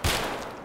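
A single loud gunshot from the video game Escape from Tarkov cracks close at hand and then fades in a short echoing tail.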